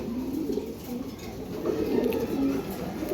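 Pigeons coo in a loft, among them an Arabian male pigeon. Their low, throaty murmuring runs on steadily and fairly loud against a constant background hum.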